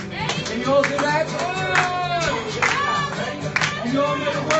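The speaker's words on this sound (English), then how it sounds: "I'm going to show you all how to clap." Audience clapping along in rhythm at a live music show, close and loud, with a singer's voice and music sounding over the steady beat of hands.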